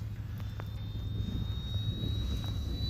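An Arrows RC Bearcat electric model warbird makes a high-speed pass into the wind, a steady droning motor with a thin rising whine, sustained and fairly close throughout.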